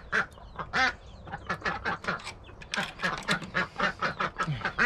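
Several ducks kept in a pen quack repeatedly in quick, overlapping bursts, close and lively, with no talk over them.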